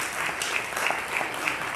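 Audience applause at a Mississippi Freedom Trail marker unveiling, continuous close clapping from a gathered crowd with a few sharper claps standing out, steady through the short clip.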